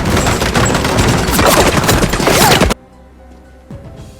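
Dense gunfire from a film scene of a siege in Somalia rattles in a loud, rapid volley for under three seconds, then cuts off abruptly into near silence.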